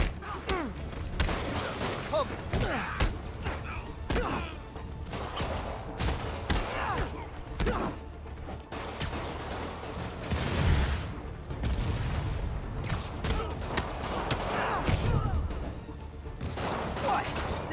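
Rockets fired in the video game Marvel's Spider-Man: repeated booms and crashing blasts amid continuous combat noise, with voices speaking over the action.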